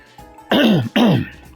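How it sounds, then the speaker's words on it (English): Two loud, gravelly throat-clearing rasps in quick succession, close up, with quiet background noise around them. "Man, can't clear my throat."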